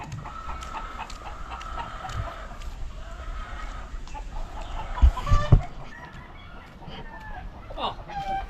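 Chickens cluck outdoors along a hot roadside, several soft clucks scattered through steady street noise, with a couple of brief louder knocks midway.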